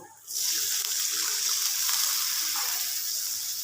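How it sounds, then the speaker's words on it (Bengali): Water poured into a cooking pot with spiced masala, for a rohu fish curry with mukhi kochu; a steady broad rush of water starts abruptly and runs continuously, close and fairly loud, with no talk. "এখানে একটু জল দিয়ে দিব"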